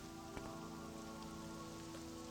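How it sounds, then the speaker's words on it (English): Steady rain falls in the video game Morrowind, a continuous even patter with a faint tonal hum underneath and one brief louder tap near the start. "And it's raining."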